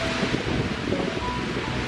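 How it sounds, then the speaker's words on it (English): Strong, steady wind on the ridge of Mount Baldy South Peak roaring and buffeting the microphone, a dense continuous rush with no voices. "We knew it would be windy, but it was much stronger than the forecast had predicted."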